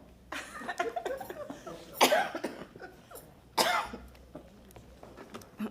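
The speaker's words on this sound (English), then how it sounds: "You make me cough." Two loud, harsh coughs stand out close to the microphone at a city council meeting, with quieter breathy sounds and low murmuring between them.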